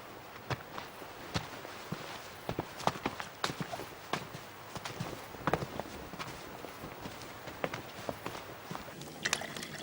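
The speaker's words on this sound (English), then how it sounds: "The portress said she heard horses." Horses approach with faint, irregular clip-clopping hooves on a hard surface, scattered soft knocks spread across a quiet outdoor background at some distance.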